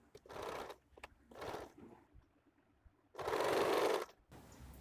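A sewing machine stitches a sleeveless blouse along marked lines in three loud bursts, two short runs followed by a longer, steadier one, with quiet pauses in between.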